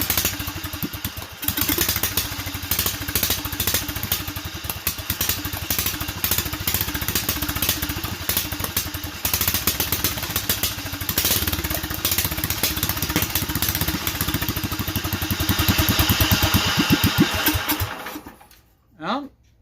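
Duromax 440cc small engine running on full choke and full throttle, a loud rough chugging roar that surges and stumbles instead of settling to idle, then cuts out abruptly near the end.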